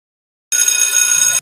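A telephone rings once as a call is placed: a single bright, steady electronic ring lasting just under a second, close and loud, with silence before it and no voices.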